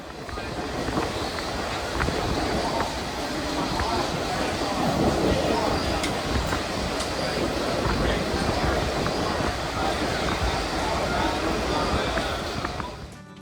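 Steam train excursion from Fort Pierce to Clewiston, Florida, running at track speed over 40 mph, heard onboard as a steady loud rumble and rush of wheels and wind with no clear breaks.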